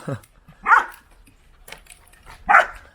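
A mixed-breed street dog barks twice, a couple of seconds apart, with quiet rustling and faint noises in between.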